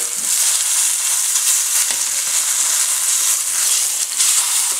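A Cajun-style beef pot roast sears in a pot, giving a loud, steady close sizzle with a few scrapes and bumps as the meat is flipped over.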